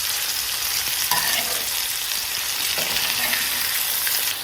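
Pork sears in a hot pan with a constant loud sizzle and crackle, broken by a few brief stirring or flipping scrapes.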